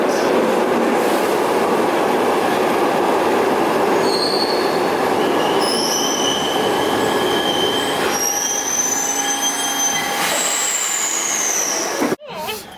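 A second-generation Glasgow Subway train pulls into Cessnock station with a steady rumble, rising wheel squeals and brake whines, and a short sharp click near the end.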